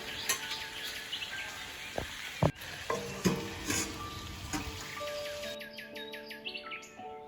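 Taro stolons (kochur loti) fry in masala over a low flame, a steady close sizzle broken by a few sharp scraping stirs, while birds chirp faintly in the background.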